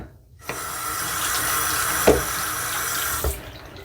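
A kitchen tap runs over a spaghetti squash being rinsed, a steady close splashing stream with a couple of sharper knocks as the squash is turned under the water.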